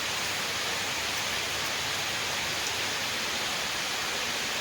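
Heavy rainy-season rain pours down steadily outside a home, a dense, loud, unbroken hiss with no voices.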